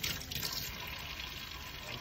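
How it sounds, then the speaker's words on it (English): Tap water runs steadily into a sink during handwashing, a soft continuous splashing stream heard close by at low volume, with no talking. "I'm gonna wash my hands."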